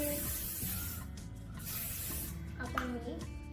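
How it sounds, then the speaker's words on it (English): A few short hissing bursts of United Colors of Benetton perfume are sprayed close by, with someone talking softly over them. "I love this perfume. It smells so good. So I'm just gonna like spray it"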